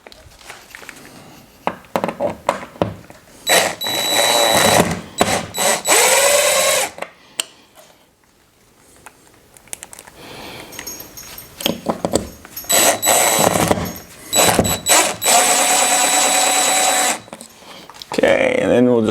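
A power drill driving screws into an office wall to mount a motorized shade, whirring in several loud close bursts that start and stop, with pauses between them.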